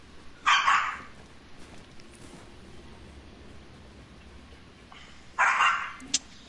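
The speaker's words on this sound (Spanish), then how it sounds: "Ey, putos perros locos." Dogs bark in a video game, two short bursts of barking several seconds apart, loud and close, with quiet background in between.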